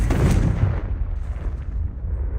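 A Confringo explosion spell in Hogwarts Legacy bursts loudly and up close, its heavy booming blast rolling into a rumbling decay that fades over about two seconds, with no voices.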